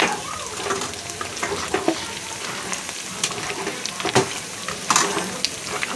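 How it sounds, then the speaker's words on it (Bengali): Spice masala sizzling and frying in a pan for mutton kosha, with steady crackle and intermittent sharp scrapes and stirs of a spoon against the pan, close and moderately loud, no talking. "আর এদিকে মশলাটা কষানো হচ্ছে"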